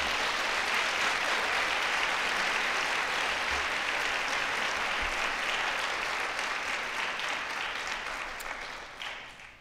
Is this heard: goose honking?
no